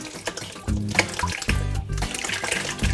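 Curds and whey for homemade mozzarella poured over cheesecloth, a loud, close, splashing liquid pour that surges and continues unevenly for several seconds.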